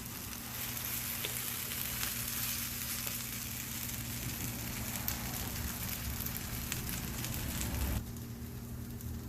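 Cornmeal mush fries on a Lodge cast iron griddle over a Camp Chef Explorer stove, a dense, even sizzle that holds steady and loud for about eight seconds before dropping off slightly, with no talking.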